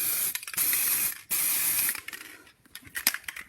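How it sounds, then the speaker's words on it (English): Spray primer can hissing in bursts, steady bright jets of aerosol with short pauses between passes, close and loud with no talk. "You don't want to get the spray nozzle right on top of the thing you are spraying"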